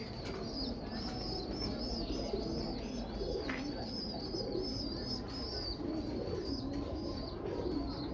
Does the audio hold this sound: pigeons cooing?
yes